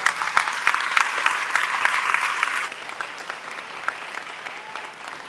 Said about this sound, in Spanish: Un fuerte aplauso para la doctora Tania Mendoza